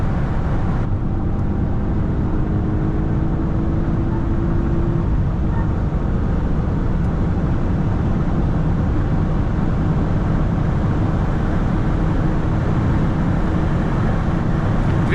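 A 2017 Audi S8 Plus with a 605 hp engine running flat out at 316 km/h, a steady loud roar of engine, road and wind rushing past the cabin, unbroken throughout.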